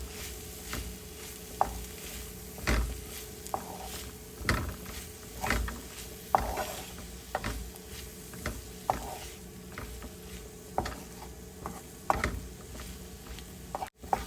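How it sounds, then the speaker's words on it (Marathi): Tindora fry being mixed in a pan with chopped coriander and grated coconut, giving irregular spoon clicks and scrapes over a faint low sizzle, close and fairly quiet, ending with a sharp knock. "चिरलेली कोथिंबीर घालणार आहोत आणि हे आपण मिक्स करून घेऊया"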